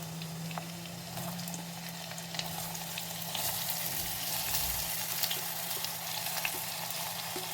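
Garlic, onion and curry leaves sauté in hot oil with a continuous crackling sizzle and a low steady hum beneath, with faint ticks of stirring, moderately quiet and with no speech.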